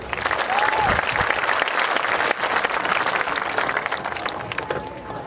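A high school graduation audience applauds the honor students of the Class of 2026 with dense, continuous clapping that fills the hall, steady and loud before easing slightly toward the end.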